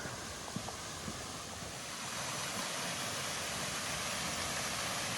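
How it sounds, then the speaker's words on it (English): A waterfall in woods near Roche Abbey gives a continuous broadband rush of falling water that grows slightly louder and fuller as it is approached, with no talk. "You can probably hear I'm getting closer to the waterfall."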